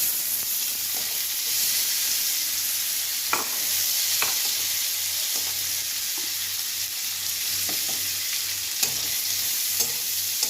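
Chopped onions and potatoes fry in a pan for breakfast noodles, giving a continuous soft sizzle broken by a few sharp spatula scrapes and taps, with no talking.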